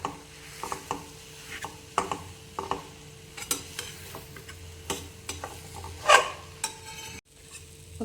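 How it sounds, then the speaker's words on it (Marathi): Jaggery melts in a hot pan for sesame tilgul vadi while a spatula scrapes and stirs in steady strokes, with light sizzling and a sharper clatter near the end. "आता हा मस्त असा त्याला पाणी सुटेल गुळाला आणि मस्त असं परतून घेऊया"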